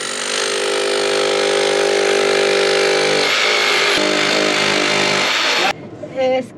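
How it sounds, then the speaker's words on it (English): Jackhammer breaking into hard, rock-like ground inside a hand-dug tunnel at a placer gold dig, a loud continuous pounding clatter that runs for about five and a half seconds, then cuts off abruptly leaving brief faint noise. "I think you got your jackhammer in too far."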